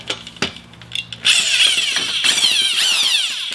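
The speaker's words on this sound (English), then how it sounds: "So let's get our drill ready." A handheld power drill with a mixer paddle whirs up after a few faint knocks, then runs steadily with a grinding, churning tone as it mixes thick thinset mortar.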